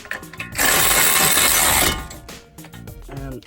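Ratchet wrench tightening a brake caliper bolt on a 2017 Subaru STI, a dense burst of loud rapid clicking for over a second between quieter handling noises.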